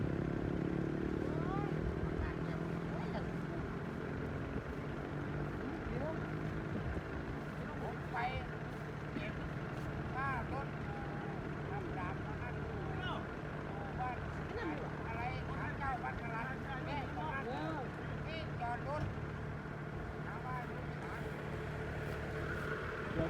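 A water pump runs steadily through the night, draining a deep flooded pond to recover a harvester that fell in, with a continuous engine drone and occasional voices talking nearby.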